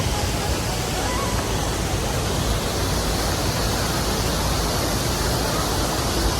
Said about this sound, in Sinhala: තියෙන්නේ මේ දිය ඇල්ල.